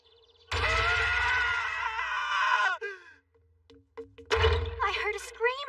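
A young woman's drawn-out, loud scream rings out close, breaks off, then after a short pause a second shriek rises with strained, wavering cries, in an anime scene.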